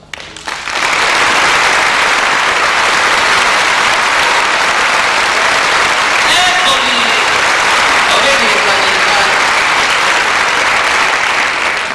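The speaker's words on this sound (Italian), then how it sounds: "A loro io indirizzerei un grandissimo applauso." Audience at a live concert in a Rome theatre breaks into loud, sustained applause that swells quickly and holds a dense clapping roar, with a few faint voices and whistles inside it.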